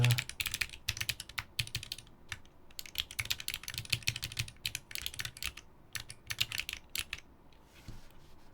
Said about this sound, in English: arc60 4K. This has cream clicky, AMK perestroika.